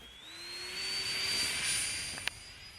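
Electric ducted fan of a homemade Su-57 radio-controlled model plane, a steady high whine rising slightly in pitch as it passes at moderate distance, with a brief click near the end.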